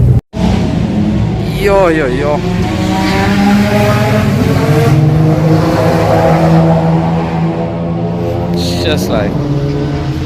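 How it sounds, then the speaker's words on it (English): Race cars at Zwartkops Raceway roar steadily with rising and falling engine pitch, a loud continuous drone with gear-change sweeps, while people talk and shout over it nearby. "oh, the race cars are going"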